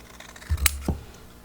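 Scissors make two or three quick crisp snips through wet handmade paper labels, close by and alone.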